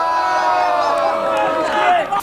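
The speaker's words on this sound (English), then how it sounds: "we got lessons in why you don't put a live mic in front of a rowdy wrestling crowd" A rowdy wrestling crowd roars and chants loudly and continuously, a dense wall of shouting voices that swells near the end.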